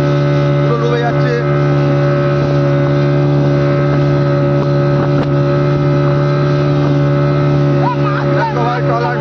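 A fishing trawler's engine drones steadily and loudly at sea near Digha as the vessel sinks. Voices come and go over the constant motor hum.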